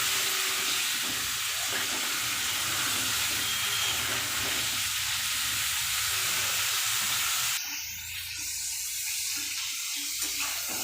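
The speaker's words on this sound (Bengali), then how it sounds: "ফুলকপি আলু ভাজা হয়ে গেছে" Boiled cauliflower and potato pieces fry in hot oil in a pan, giving a loud, steady crackling sizzle that eases somewhat near the end, with no talk.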